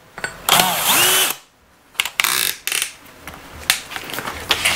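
Cordless hammer drill, a Flex Turbo or DeWalt FlexVolt, drilling: several short, loud bursts of whirring and rattling, separated by brief pauses and clicks.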